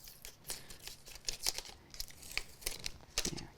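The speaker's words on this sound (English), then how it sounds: "take our tape off." Tape being peeled off a craft card, quiet close crinkling and soft tearing rips in several short bursts, with no talking.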